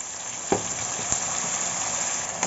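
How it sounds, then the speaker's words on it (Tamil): Tomatoes sauté in a pan with onion, garlic and curry leaves, a steady close sizzle with two or three sharp stirring knocks, no voices. "இப்போ தக்காளி கொஞ்சம் வதங்கணும்."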